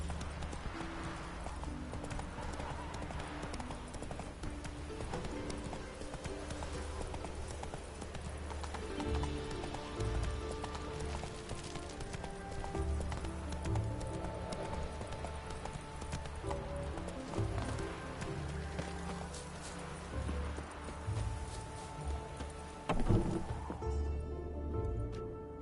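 Horse hooves clip-clopping in The Witcher 3, a steady rhythmic trot running through the whole stretch at moderate distance, with a brief whinny and soft game music underneath.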